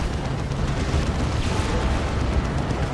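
A D-Cannon fires during an Imperial Guard versus Eldar match in the strategy game Dawn of War 2, giving continuous heavy booms and rumbling blasts that overlap into a loud, unbroken barrage.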